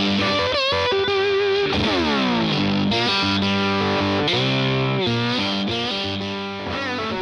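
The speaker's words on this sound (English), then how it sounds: "The flat 4 tube booster can be used as a mid boost, treble boost, and overdrive." A VOX Tone Garage Flat 4 tube booster overdrive guitar pedal drives a distorted electric guitar through loud, sustained chords and bending notes, with a thick overdriven tone ringing steadily throughout.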